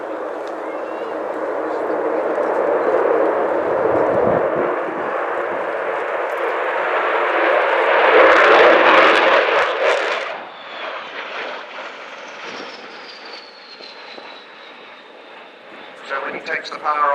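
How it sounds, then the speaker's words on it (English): A loud jet engine roar builds and swells as an Avro Vulcan bomber, XH558, passes close by along the runway at RIAT 2015, then fades into a distant rumble before rising again at the end. "So as Kev brings the Vulcan in along the runway, along the display line"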